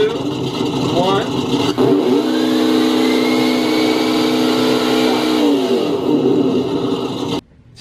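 A Sense ESS Dual sound kit in a Vaterra V100 RC car on a dyno plays a simulated engine roar that revs up and holds loud and steady, then drops away abruptly at the end.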